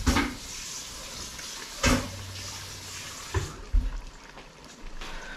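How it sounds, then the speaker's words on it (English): Water is poured in several short splashy bursts while cooking Senegalese jollof rice (thieboudienne) at home, each pour brief and close, with quieter gaps between. "I'll add a little bit of water"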